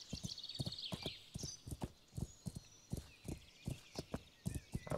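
Horse in the medieval game Kingdom Come: Deliverance, with steady rhythmic hoof clip-clops on ground and a high whinny near the start, close and clear.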